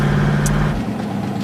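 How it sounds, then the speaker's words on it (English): A car engine rumbles steadily nearby, then its low drone drops and fades as the vehicle comes to a stop. "The car has stopped."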